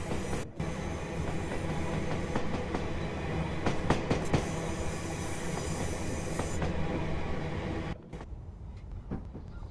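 A Class 805 Evero electric train in Train Sim World 6 hums steadily with a loud, continuous motor whine and running rumble, with rail clatter, before the sound drops abruptly near the end.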